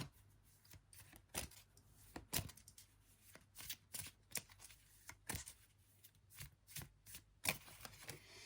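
Tarot cards being shuffled, a rapid series of crisp riffling bursts and flicks close by, repeating irregularly across the whole stretch at moderate loudness with no talking.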